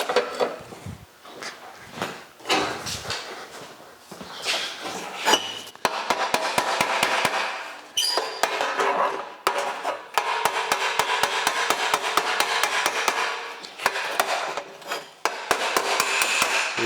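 Rapid hammering with a shoe hammer shaping sheet metal for a handmade door on a 1956 Chrysler Windsor, a dense run of sharp taps with brief pauses, close and loud, no voices.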